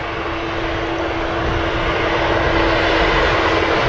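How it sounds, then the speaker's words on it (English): An EasyJet Airbus A320neo jet roars steadily past at Manchester Airport, a loud continuous broadband engine rush with a sustained tonal hum, no voices over it. "Here she comes, EasyJet A320 Neo"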